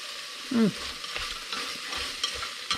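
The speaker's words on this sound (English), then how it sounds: "Just add green onion and stir fry." Bitter melon with egg and green onion stir-fried in a pan, a bright continuous sizzle with quick scraping stirs and a squeaky utensil sweep early on, close and moderately loud.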